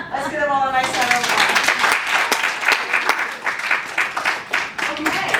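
Audience applause after an improv performance: dense, sustained clapping from a crowd filling the whole stretch, loud and close, with a few voices briefly audible at the start.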